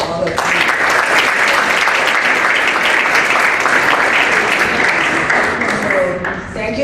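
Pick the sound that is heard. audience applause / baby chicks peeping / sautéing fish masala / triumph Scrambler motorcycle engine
audience applause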